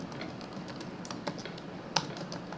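Java servlet code being typed on a computer keyboard, a quick, uneven patter of soft key clicks with one sharper tap near the end, close but fairly quiet, no voices.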